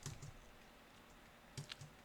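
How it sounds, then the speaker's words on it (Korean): Keys on a computer keyboard being used as a secondary input clack in two short quiet bursts separated by a pause, in a hushed room. "키보드를 메인이 아니라 서브로 쓰니까 이게 되게 불편하네요"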